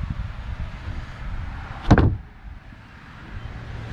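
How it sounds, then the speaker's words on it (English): The rear lid on a 2021 Falcon 195 boat opening, a single short clunk and rattle in the middle, close by, over a low idling hum with no talk. "The whole back lid opens."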